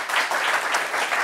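A short burst of steady applause from a group, a dense patter of clapping that holds fairly loud and close for about a second.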